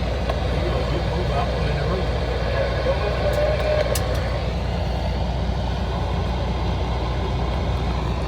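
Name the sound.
semi truck engine during ride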